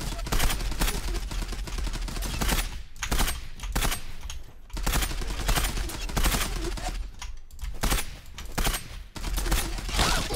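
M4 rifle fire in the online shooter Zula, rapid continuous bursts of automatic gunfire that dominate the clip, broken by brief pauses between volleys.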